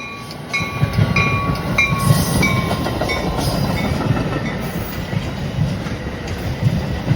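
A train running through a station without stopping, with loud rhythmic clickety-clack of wheels over rail joints and a steady rumble sustained for several seconds.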